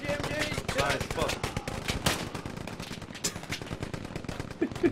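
Machine gun fire in the Hell Let Loose war game, dense rapid bursts crackling continuously at close range alongside other gunfire, with a voice shouting briefly over it.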